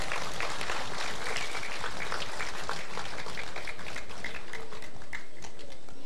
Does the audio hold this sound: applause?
yes